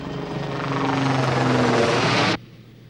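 A helicopter rotor in flight gives a steady, loud whirring drone that swells slightly over about two seconds and then cuts off abruptly.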